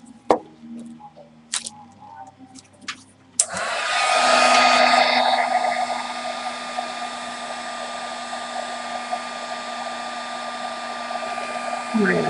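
A hair dryer starts up with a click and blows a steady, loud whoosh with a faint whine, drying paint on a butterfly canvas, running continuously close by after a few quiet handling noises.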